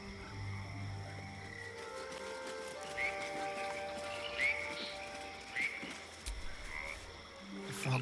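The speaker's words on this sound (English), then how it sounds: "The frog's entire body shakes. It ribbits erratically as if in pain." A frog in Baldur's Gate 3 croaks in uneven, erratic bursts, a few sharp ribbits standing out over a steady ambient game background, with no one talking.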